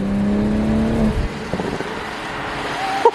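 A BMW B58 engine with an aftermarket downpipe and burble tune revs hard with a deep droning tone, then drops off and crackles and pops briefly as the throttle lifts.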